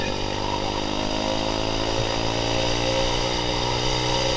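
A motorcycle engine runs steadily and loud throughout on the road, a dense buzzing drone close to the rider, with no clear rise in pitch and no talk over it.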